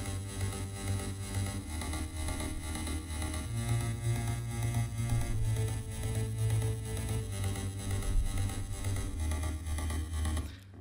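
Several bass synths layered together in an FL Studio progressive house mix, including a sub bass, pulsing steadily in a sustained rhythmic pattern at moderate volume, with the low notes shifting in pitch across the passage.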